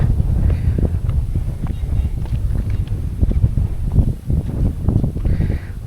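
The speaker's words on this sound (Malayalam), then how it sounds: "നല്ല കാറ്റുണ്ട് ഇവിടെ." Strong gusty wind buffeting the microphone at the Vellanikkal Paramukal hilltop viewpoint near Trivandrum, a loud continuous rumble rising and falling in uneven surges.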